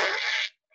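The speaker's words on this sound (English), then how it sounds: "He let out a fart. It was loud and quite smelly." A single loud fart from a story reading plays as a sharp, buzzing burst lasting about half a second, then cuts to near silence with a faint blip after.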